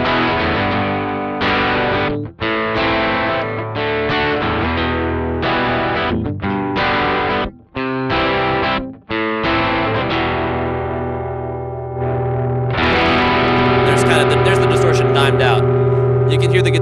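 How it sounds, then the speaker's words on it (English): Electric guitar played through a Fender analog distortion pedal, heavily overdriven chords ringing in bursts with brief gaps, then a long sustained distorted note with squealing upper overtones. "So let's hear what it sounds like as I bring in the distortion"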